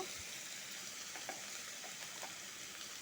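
Chopped bottle gourd sizzles in a hot pan, a faint, even hiss with a couple of soft crackles over a few seconds.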